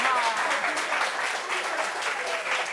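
A short burst of audience applause, dense and steady clapping from a group throughout, with a voice faintly heard under it.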